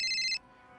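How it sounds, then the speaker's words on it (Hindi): A telephone rings once in a short electronic burst of bright tones, loud and close, then cuts off abruptly, leaving quiet room tone. "फोन बज जाता है"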